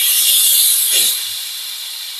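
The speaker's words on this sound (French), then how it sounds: "Il suffit ensuite d'appuyer sur la gâchette pour faire sortir la vapeur." Polti Vaporetto SV440 Double steam mop releasing a loud, close burst of hissing steam that softens after about a second, then continues as a steadier hiss.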